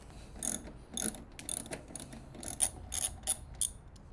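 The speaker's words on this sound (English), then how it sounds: "Now you're going to want to get your ratchet and we're going to go ahead and loosen up the nut that's holding the wheel in." A hand ratchet loosening the wheel nut on a self-propelled lawn mower, a series of short bursts of rapid clicking separated by brief pauses, close and clear with no talking.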